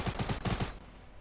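A rapid burst of about seven gunshots in quick succession in Fortnite, slightly muffled and electronic-sounding, then trailing off into quiet.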